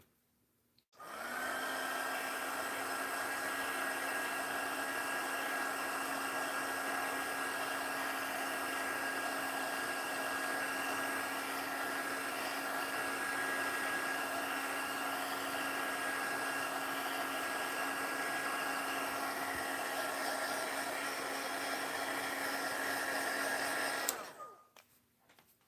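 A hair dryer drying paint on a seashell runs steadily at a near, constant whine and roar for about twenty-three seconds, then switches off abruptly, with no talk over it.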